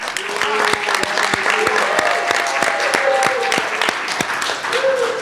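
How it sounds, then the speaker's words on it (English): Audience applause at a Foundation for a Drug Free World event, a steady burst of clapping hands that runs for several seconds, with a voice briefly heard over it. "So another round of applause for Dr."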